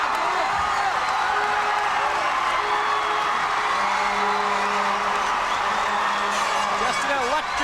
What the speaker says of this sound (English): Just an electric crowd here. And the place is going nuts.